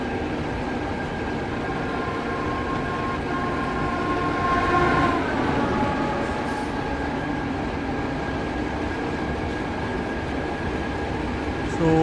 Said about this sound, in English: So the freight train is arriving